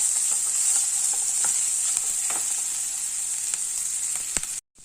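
Turmeric powder sautéing in a pan for capsicum rice gives a steady bright sizzle, with light stirring scrapes throughout before it cuts off abruptly near the end.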